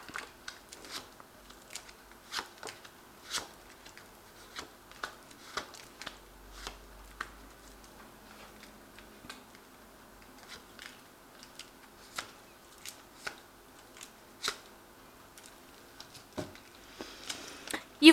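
A deck of tarot cards is shuffled with soft, scattered flicks and light taps spread across the whole stretch, quiet and close, with no talking.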